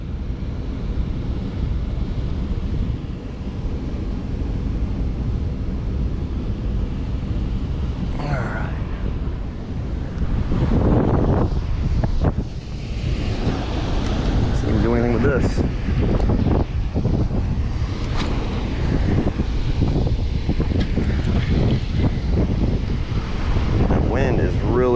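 Strong wind buffets the microphone by the water while someone fishes with an umbrella rig near a spillway. The gusts are loud and uneven, with heavy bursts and brief pauses, and a voice talks intermittently.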